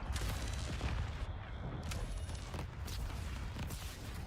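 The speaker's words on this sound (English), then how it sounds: "Whoa! Rocket barrage." Rocket barrage explosions in World of Tanks, a dense rumbling roar of blasts and booms rolling continuously at close range with brief lulls between volleys.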